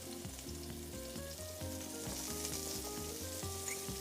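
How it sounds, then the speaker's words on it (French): Red onions and bell peppers pan-frying in olive oil in a wok, a close steady sizzle with soft clinks from stirring, heard alone and fairly quiet. "Je vais poêler les légumes. De l'huile d'olive. Alors tout d'abord les oignons rouges. Les poivrons."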